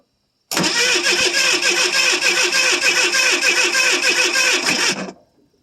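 A 1980 Ford Fairmont Futura, off the road for 29 years, cranks without catching: a loud, close starter grinding in a fast rhythmic churn that lasts about four and a half seconds, then stops.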